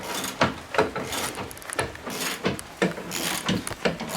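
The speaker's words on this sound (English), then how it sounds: "now I can work a little quicker by running both ratchets" Two ratchets work a loosened bolt on a Mustang's suspension at the same time, giving a quick run of overlapping clicks in short bursts, close and fairly loud, with no talk.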